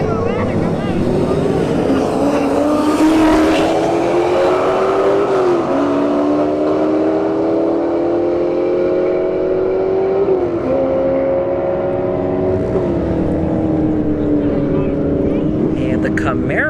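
Camaro SS and Challenger launching side by side down a drag strip at Bradenton Motorsports Park, loud sustained engine drone with rising gear-change pitch sweeps, an announcer talking over the racket.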